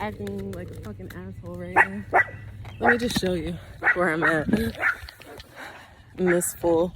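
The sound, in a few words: dog barking in a field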